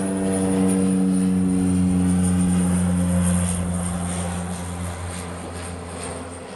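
An airplane taxies at Honolulu airport with a steady, loud engine drone and hum that slowly fades as it moves away.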